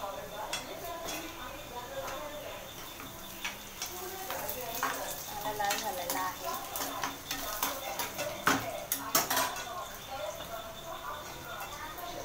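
Mustard seeds and cumin sizzle in hot oil in a pan while a spoon stirs them, producing steady crackling with repeated scraping and light metallic taps; a voice speaks intermittently over the cooking.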